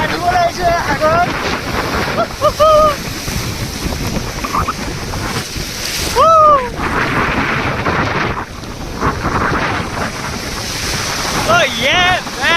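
Sea waves at Dhanushkodi beach near Rameshwaram roar continuously, close and loud, with heavy wind buffeting throughout and voices calling out over the surf.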